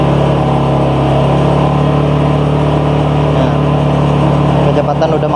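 A Suzuki Satria FU150 motorcycle cruises in fourth gear at about 60 km/h, its engine holding a steady, close drone with a continuous low hum and road rush throughout.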